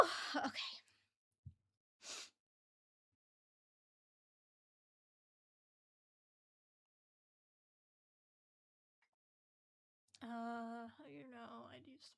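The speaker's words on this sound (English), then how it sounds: "I am about to sneeze." A single sharp sneeze bursts out near the start, followed by a brief sniff and long silence, then someone begins talking at the end.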